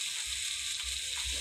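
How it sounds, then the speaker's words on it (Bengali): Pieces of river pangas fish frying lightly in hot oil: a continuous close crackling sizzle with a few soft low bubbling thumps, and no voices. "এখন আমি তেলে ভেজে নিব হালকা।"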